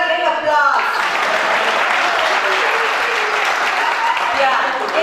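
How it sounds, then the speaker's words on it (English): Dense applause from a school gathering in a hall, steady and fairly loud throughout, with a brief voice trailing at the start before the clapping swells and holds. "Give her a big applause"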